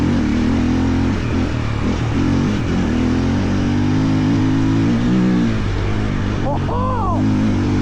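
A Triumph TF450E dirt bike engine roars loud and close, with a constant throbbing drone and a quick rising rev near the end. Wind noise and talk can be heard through it.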